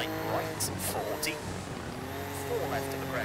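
Rally car engine in the EA Sports WRC video game, a steady droning motor with shifting harmonic whines and a few sharp high bursts, heard under a voice reading pace notes.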